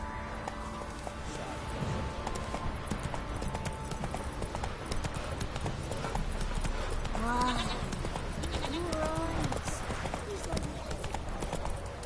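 A horse's hooves clip-clop in a steady trotting rhythm at moderate distance under a constant background hum, with voices talking in the middle and a brief whinny-like call.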